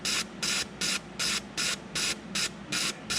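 A fuel injector from a Ford Fox Body Mustang fires in short, even spray bursts, about eight sharp hissing pulses in a steady rhythm, close and clear above a low background hum.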